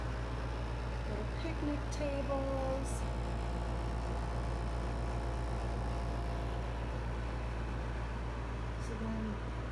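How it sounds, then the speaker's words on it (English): An air conditioner runs in a lakeside hotel room, a steady low hum that continues under a person talking. "That noise is the air conditioner."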